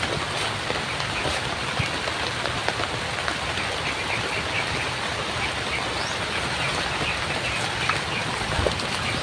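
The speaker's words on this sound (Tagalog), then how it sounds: "Ang lakas ng ulan mga kadol." Heavy rain pours down steadily, a dense, loud hiss of drops drumming on surfaces close by, unbroken and even throughout with occasional sharper spatters and no voices.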